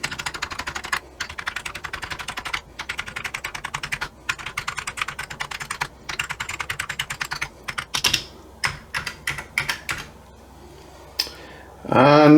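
Keys tapped one after another on a Commodore Amiga 600 keyboard during a test after cleaning, a steady run of close, crisp clicks with brief pauses and denser bursts toward the end.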